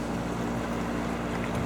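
Steady engine drone of a four-engine patrol motorboat near a river mouth by Pittsburgh, a continuous low hum with wind noise and no talk.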